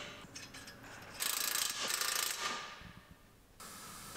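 A hand ratchet tightens a bolt on a Ram ProMaster City van during engine replacement work, giving a few bursts of quick metallic pawl clicking, close and fairly loud, with no talk.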